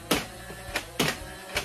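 A Buzzbee Rogue flywheel foam blaster fires in sharp mechanical bursts, three quick shots spaced about half a second apart, each a bright clacking push with brief rev noise between, close and alone without talk.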